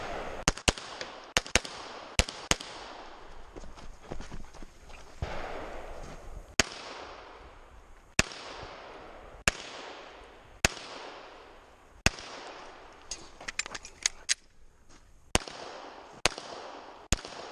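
Pistol shots ring out at an IDPA shooting match, roughly a dozen sharp cracks in irregular clusters and pairs spread across the stretch, fairly loud against a quiet outdoor background with no talking.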